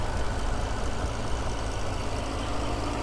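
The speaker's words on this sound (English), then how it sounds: "Very smooth, consistent idle" A 2006 Bentley Continental Flying Spur's six-liter twin-turbo W12 engine idling smoothly up close, a steady even rumble with no revving and no voices.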